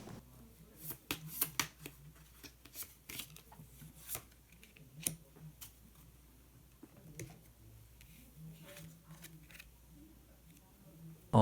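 Tarot cards are shuffled and drawn in a quiet indoor reading. Soft, scattered flicks, taps and riffles come in irregular clusters, some faint and some sharper, with a pause in the middle of the stretch.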